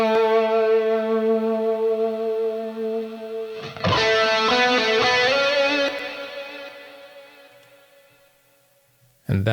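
Electric guitar melody playing a cover, heard dry without chorus: a sustained distorted chord that rings out, then a struck change at about four seconds with hall reverb and delay tails slowly fading to near silence.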